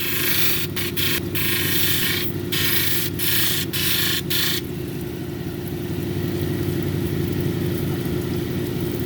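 A cabochon grinding machine shapes a piece of hard Mexican red lace agate, giving a steady mechanical whir with bursts of gritty grinding contact in the first half, then a smoother running hum alone.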